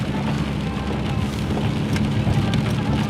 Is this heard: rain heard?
yes